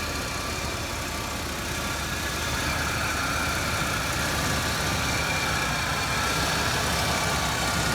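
A 1982 Imperial car engine idling smoothly, a steady even rumble with a constant mid-range hum and no changes in pace or level throughout.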